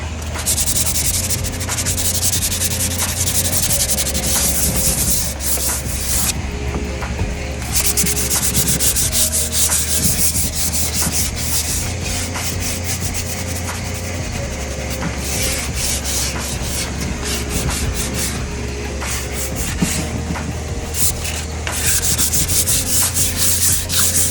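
Hand sanding a particle board dresser with sandpaper, a steady scratchy rubbing in continuous back-and-forth strokes, close and fairly loud with brief pauses and no talk.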